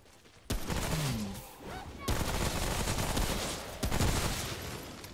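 Gunfire in the video game Remnant: From the Ashes, several dense bursts of shots with sharp onsets near the start, middle and end, loud and close, with faint voices and game effects underneath.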